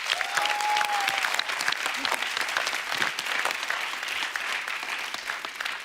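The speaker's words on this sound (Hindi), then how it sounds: "एक बार जोरदार तालियां होनी चाहिए।" A television studio audience claps steadily and loudly for several seconds, with a brief voice heard near the start.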